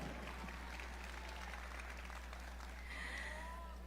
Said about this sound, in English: Let's give her a round of applause, ladies and gentlemen.